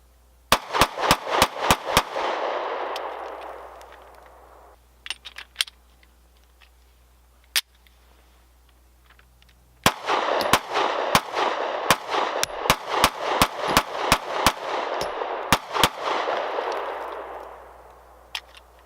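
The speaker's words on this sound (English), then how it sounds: "Let's fire it a few more times," A Taurus G2c 9mm compact pistol fires rapid bursts of sharp, loud shots outdoors, roughly a dozen cracks per string with ringing decay, a short pause with a few scattered shots, then another long rapid string.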